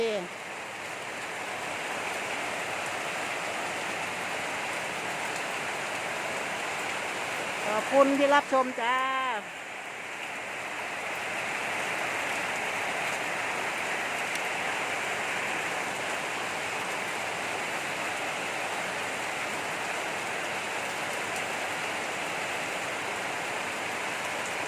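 Steady rain falls all day and night in Nong Khai, a broad even hiss throughout, briefly interrupted by a short spoken phrase in the middle.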